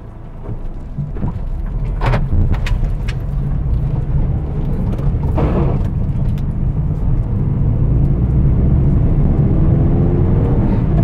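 A used Hyundai i10 Sportz drives along a road, its steady engine drone and broadband road and cabin noise holding loud throughout, with a few brief sharper rattles early on and no voices.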